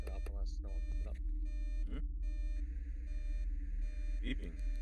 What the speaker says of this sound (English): What's this thing? It's beeping in here.